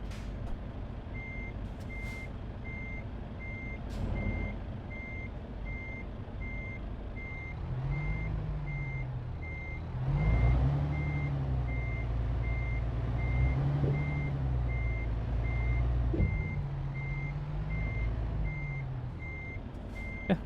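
A truck reverses in Euro Truck Simulator 2 up to a loading window. Steady reversing beeps repeat over a low diesel engine rumble that swells as the truck moves, with no voices.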